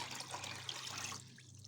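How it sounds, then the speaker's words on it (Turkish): Faint, steady stream of water pouring into a pot of sugar for syrup, with a soft low hum underneath and the flow easing toward the end. "Tenceremizin içine şekeri koyuyoruz ve de üzerine suyu ilave ediyoruz"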